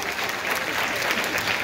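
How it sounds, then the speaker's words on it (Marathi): Applause from a school gathering, a short burst of steady, dense clapping from a group of people, moderately loud and close, with no talk over it. "जरा जोरात टाळ्या."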